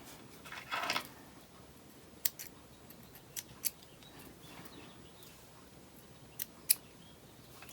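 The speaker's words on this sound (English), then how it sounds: "we're just going to take our clippers and just snip that" A faint scrape, then a few quiet, separate snips of small clippers cutting thread, spaced over several seconds in a still room.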